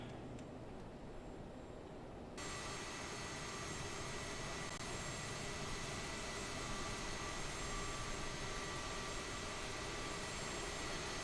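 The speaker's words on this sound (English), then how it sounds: "Let's start engine up number 1." An Aerosoft CRJ jet engine number 1 spooling up on start in Microsoft Flight Simulator, a steady broadband roar that jumps louder after a couple of seconds and then holds, continuous and close, with no talk.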